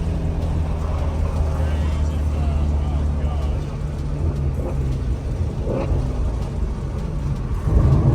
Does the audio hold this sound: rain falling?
no